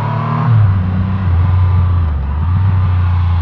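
A 2020 Triumph Rocket 3 R motorcycle accelerates hard under spirited riding, its engine note climbing and rising in pitch over a few seconds, close and loud, with no talking.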